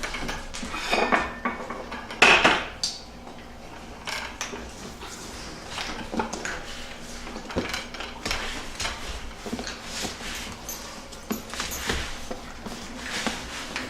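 A lidded container of homemade laundry powder rolls and tumbles, giving off a close, busy clatter of knocks, rattles and scrapes that carries on steadily with a few louder clunks and no talking.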